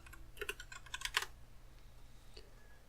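Quick bursts of keystrokes on a computer keyboard, typing a short search query, fairly close and clear, then a pause with one or two isolated taps near the end.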